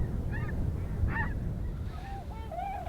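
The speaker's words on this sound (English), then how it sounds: "there were a bunch of snow geese there" Snow geese honk in a few short calls from a flock at moderate distance, over a low steady rumble of wind or background noise.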